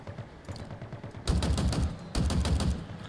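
Halo Infinite campaign gunfire comes in two loud bursts of rapid automatic shots, each a second or so long, over lighter scattered shots and background game noise, with no speech.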